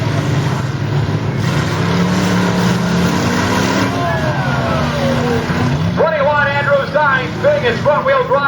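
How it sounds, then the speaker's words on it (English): At a county fair demolition derby, a front-wheel drive car revs hard while spinning its tires, a loud continuous engine roar with rising whine, under an announcer's commentary throughout. "Spinning his front-wheel drive tires."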